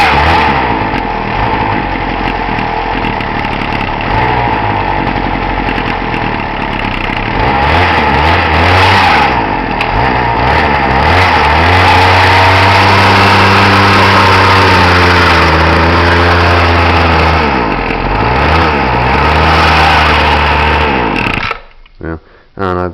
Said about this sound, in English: Now let's see if I can get it to idle better.